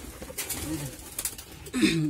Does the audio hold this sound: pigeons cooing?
yes